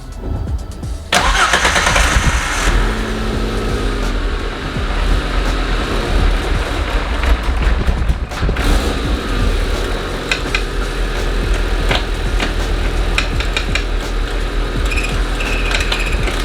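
A car engine cranks and catches, then settles into a steady, loud idle that runs close by with scattered clicks and clatter over it; no one speaks.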